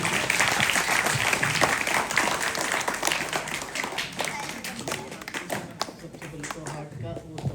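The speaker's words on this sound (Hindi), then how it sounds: "इसे सर के लिए जोरदार तालियां।" Loud applause for a teacher at a school heart-safety campaign event in Rundlav, many hands clapping hard and fast at first, then thinning into scattered claps with a few distinct slaps near the end.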